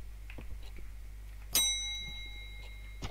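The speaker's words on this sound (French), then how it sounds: "Pourquoi il y a des sonnettes?" A bell chimes once in the horror video game Maid of Sker, a sharp metallic ring that fades slowly over low, steady ambient hum.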